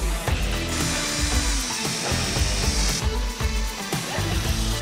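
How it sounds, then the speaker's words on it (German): A power drill drives screws to fasten a loose milk dispenser during a party, a loud buzzing, ratcheting whir with short bursts and brief pauses, close by. "Bohrmaschine."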